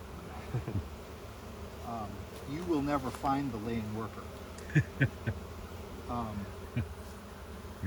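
Honeybees buzz in an opened hive being evaluated, a steady background drone running beneath someone talking close by, with a few sharp handling knocks.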